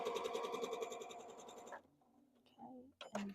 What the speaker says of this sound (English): Some people call this chain piecing, assembly line sewing, rote sewing